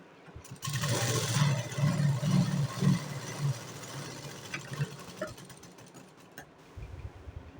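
Sewing machine running in bursts while stitching a single seam on a blouse, a close mechanical whir that is strongest early and then fades to quieter, lighter stitching.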